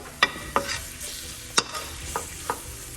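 Flour roux for Cajun shrimp and grits stirred in a pot over low heat, a faint bubbling sizzle punctuated by a few scattered sharp scrapes and taps of the spoon, close and unhurried.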